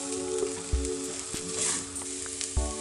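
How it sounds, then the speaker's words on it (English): Okra and callaloo sizzle in butter in a pan, giving a steady close crackle with occasional spoon or pan knocks as the vegetables are stirred; no voices. "coat the okra well in the butter. Add your callaloo. Mix well."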